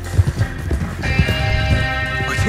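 Horses ride at a steady clip in the Red Dead Redemption 2 game, hooves thudding in a regular clip-clop beat under a music bed, fairly close and moderately loud.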